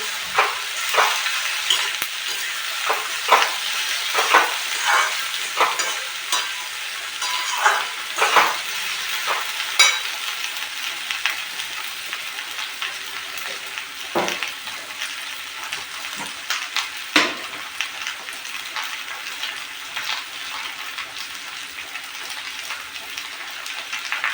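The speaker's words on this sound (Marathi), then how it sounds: "कांदे भेंडी एकत्र फ्राय होते मस्त क्रिस्पी क्रिस्पी भेंडी लागते" Onions and okra fry together in a pan for a dry bhindi bhaji, giving a steady close sizzle broken by sharp stirring scrapes and clatters throughout, with no talking.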